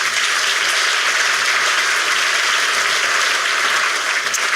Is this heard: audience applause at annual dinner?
yes